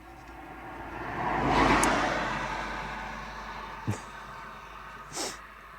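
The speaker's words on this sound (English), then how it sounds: "Wait for this car to pass" A car passes along a road outside: its noise swells gradually, peaks as it goes by and then fades slowly. A couple of short, sharp knocks or clicks follow near the end.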